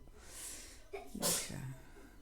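A single sharp sneeze, close and fairly loud, with a quick intake of breath just before it and a short nasal tail after.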